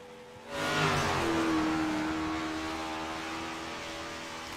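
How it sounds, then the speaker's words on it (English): A big block dirt modified race car at Knoxville winds up its engine, a rising roar that swells sharply after a brief lull and then holds as a loud, steady drone with a sustained pitched whine. "Watch Josh get the big block wound up and come to take the green for his first of 2 laps"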